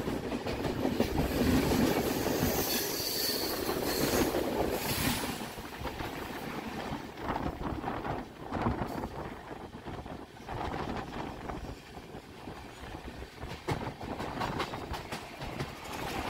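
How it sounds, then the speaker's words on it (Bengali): The Purulia–Howrah Superfast Express runs past with a loud rushing roar that eases into a steady rattle of wheels, punctuated by sharp clacks over the rails. "One 2828 Purulia Howrah superfast express."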